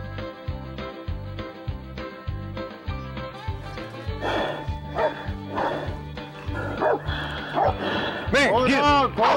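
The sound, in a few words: hunting dog barking during hog hunt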